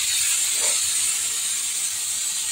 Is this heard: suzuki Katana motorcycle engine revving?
no